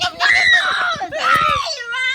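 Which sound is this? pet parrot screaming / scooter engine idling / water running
pet parrot screaming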